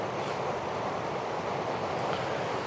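The Fall River running below at night in Rocky Mountain National Park, a constant broad rushing of water heard from a distance, steady and even throughout, with a faint wind-like hiss.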